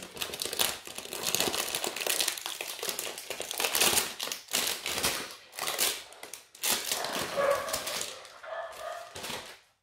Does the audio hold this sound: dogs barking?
yes